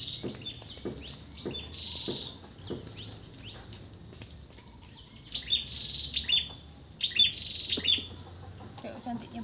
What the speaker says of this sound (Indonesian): Kayak cantiknya burungnya itu dek.